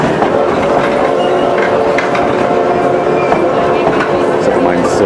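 Inside a passenger car of the Durango narrow-gauge train, a steady rolling rumble with faint clicks of the rails runs loud and close throughout, with a voice speaking under it.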